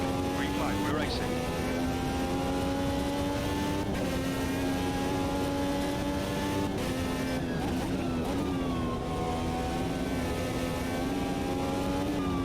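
IndyCar racing engine from an Automobilista 2 sim racing mod, a steady high-pitched whine held at near-constant revs with slight pitch shifts, loud and continuous throughout.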